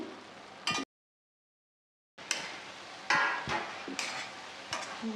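Grated carrots simmering in milk in a pan for gajar halwa, stirred with scraping and sizzling strokes that break off into a brief silence and then resume with several sharper scrapes.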